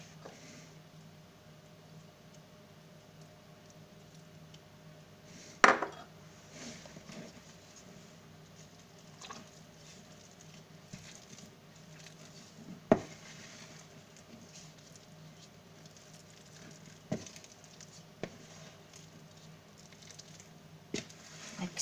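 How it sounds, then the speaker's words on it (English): Stiff pumpkin scone dough being worked by hand in a bowl, faint soft patting and squishing with a few sharp knocks against the bowl, close and quiet over a low background hum. "So the dough is now very difficult to mix."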